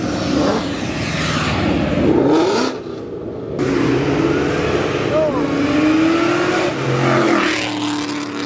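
A Mustang with no exhaust roars and revs nearby at a car meet, harsh and unmuffled, rising and falling over several seconds amid outdoor crowd noise.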